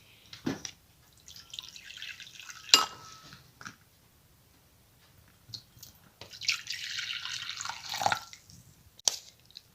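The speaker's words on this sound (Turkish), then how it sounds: "Onların içərisinə qaynar su əlavə edirik." Boiling water pours into several separate bowls set out for dyeing Easter eggs with food coloring, heard as two splashy streams with a few clinks of dishes in between.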